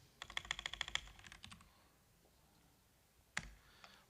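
Rapid keystrokes on a computer keyboard, a quick burst of clicks for about two seconds, then quiet and one sharp final key press, close and alone with no talking.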